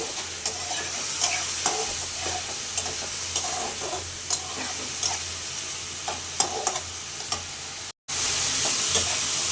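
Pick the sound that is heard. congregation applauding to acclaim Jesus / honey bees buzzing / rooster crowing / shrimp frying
shrimp frying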